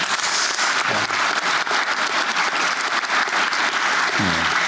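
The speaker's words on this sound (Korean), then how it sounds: "박수 한번 줘보세요 한번." An audience at a Korean presidential economic event applauds, dense continuous clapping close and loud throughout, with a brief voice or two rising near the end.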